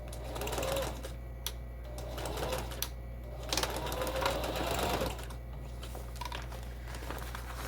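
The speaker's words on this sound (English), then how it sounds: "we're going to take this to the sewing machine and we're just going to stitch this" Sewing machine stitching through craft paper for a bunny decoration, a steady mechanical whirring hum with brief bursts and pauses, close and clear, no talking.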